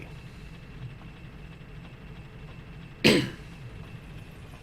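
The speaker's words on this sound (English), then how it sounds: "Excuse my cough." A single short cough comes through close and abrupt, a lone burst against a quiet background hum from a Dark Souls play session.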